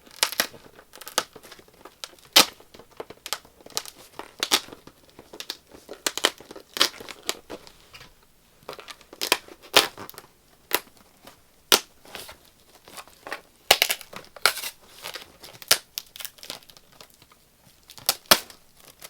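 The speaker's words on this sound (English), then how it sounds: "Let's open the side. I already cut the sides. And then open it in the middle." Christmas wrapping paper on a present package crinkles and tears as it is opened, with scattered sharp rips and rustles close by, irregular and fairly quiet, and no one speaks.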